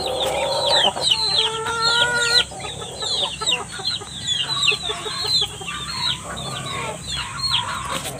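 Laying hens cluck and call close by in a pen alongside Muscovy ducks, with bursts of squawking, a few sharp cries and steady overlapping clucks against low background noise.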